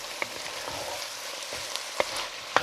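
Garlic and bay leaves sizzling in a pot for red beans and rice, a steady, close frying hiss with a few sharp pops and spoon clicks, with no talking.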